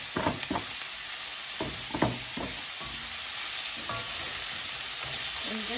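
Chicken chow mein is stir-fried in a pan: a steady sizzle runs throughout, with scattered close scraping and clacking stir strokes on top.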